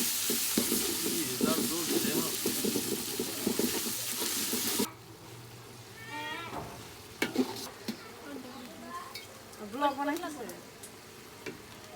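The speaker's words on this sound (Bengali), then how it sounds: "তেলের উপরে আদা বাটা দিয়ে দিলাম এখন" Ginger paste hits hot oil with a loud, hissing sizzle for about five seconds, then a quieter frying hiss continues beneath someone talking while cooking beef kacchi biryani.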